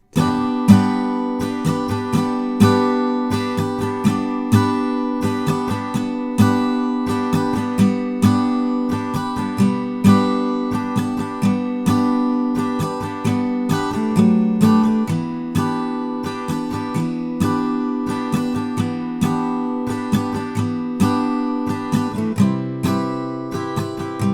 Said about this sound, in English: So this super simple strummed way of playing this main chord progression will sound like this.